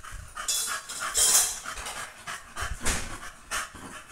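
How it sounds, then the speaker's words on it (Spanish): A dog pants close by in quick, rhythmic breaths with faint clinks of dishes or cutlery in the background, and nobody speaks. "el perro."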